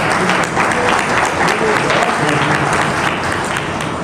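Sustained, dense applause from an audience at an organisational session in Ayodhya, steady and loud throughout with no pauses and no talking over it.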